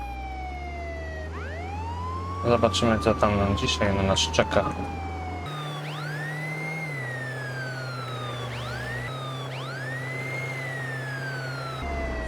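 Wailing police car siren in the video game Contraband Police, sweeping up and down repeatedly, loud and close, with someone talking over it briefly and a low engine drone underneath.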